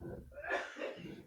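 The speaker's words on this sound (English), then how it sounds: "Bless you" A single, fairly quiet sneeze with a breathy intake and a snorting burst, heard close on its own.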